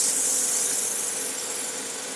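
Sandpaper of 180 grit drawn across a surface during finishing work gives a steady, close abrasive hiss that holds an even level for the whole stretch, with no voices.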